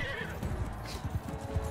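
A horse in the Mount & Blade II: Bannerlord video game whinnies over quick clip-clop hoofbeats, close and clear, with battle noise around it.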